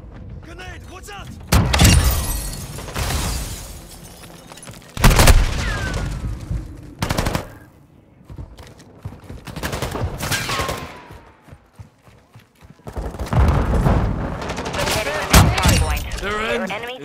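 Heavy gunfire fusillades and booming grenade explosions in the Call of Duty: Modern Warfare II video game, loud bursts that come and go with brief lulls, while in-game voices shout callouts.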